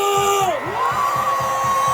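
A crowd at a political rally in Park Chung-hee Square at Dongdaegu Station roars a loud, sustained cheer, with a pulsing low rumble of voices continuing under a rising whistle-like tone.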